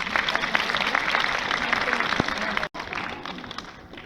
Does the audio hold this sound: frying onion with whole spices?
no